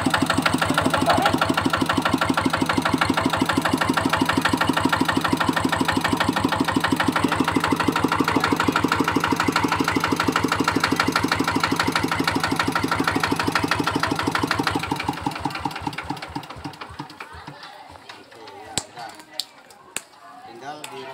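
A diesel engine with a large flywheel, fed from a solar fuel tank, runs with a rapid steady chugging thump, loud and close, then winds down and fades to slow irregular knocks near the end.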